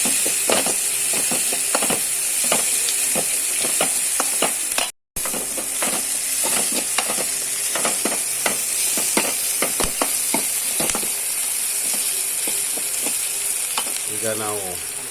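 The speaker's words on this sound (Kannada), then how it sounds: "ಅದರ ಒಂದು ಹಸಿ ವಾಸನೆ ಹೋಗೋ ತನಕ ಒಳ್ಳೆ ಮಾಡಿ ಫ್ರೈ ಮಾಡುವ" Tomato and green chilli fry steadily in a hot pan, giving a loud continuous sizzle with occasional stirring clicks and scrapes throughout, with no talking over it.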